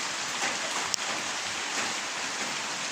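Heavy rainy-season rain falls steadily, a continuous dense hiss of drops on surfaces with one sharp brief knock partway through.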